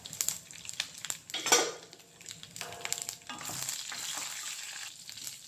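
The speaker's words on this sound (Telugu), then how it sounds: "ఇందులో జీరా కూడా వేసేసుకోవాలి. 5-6 ఎండుమిర్చి కూడా వేసుకోవాలి." Cumin seeds and dried red chillies sizzle and crackle in hot oil for a tempering for drumstick-leaf dal, with close stirring scrapes and clinks of a utensil against the pan.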